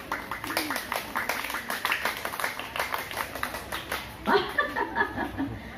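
Schoolchildren at an elementary school perform a rhythmic scout clap, a fast patterned run of claps with chanted voices joining in toward the end.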